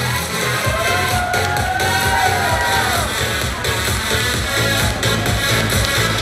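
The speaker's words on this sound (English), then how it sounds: "Big round of applause for Annie, guys." Crowd at the ICN North Coast Classic 2023 bodybuilding competition cheering and whooping loudly and continuously, with shouts rising over a dense, steady roar in a large venue.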